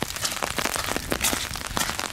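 Rain falls steadily on the approach path to Tamaki Shrine, a dense patter of close drops with scattered sharper taps and no voices.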